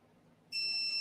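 A single steady electronic beep from a standing desk control starts halfway through and holds, high and clear over faint background hum.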